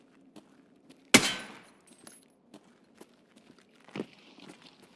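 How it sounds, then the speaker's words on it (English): A single sharp, loud gunshot is fired at a tarp in Escape from Tarkov, followed by a scattering of soft footsteps and a quieter thud a few seconds later. "I decide to shoot the tarp and force the fight"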